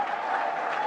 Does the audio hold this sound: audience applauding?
yes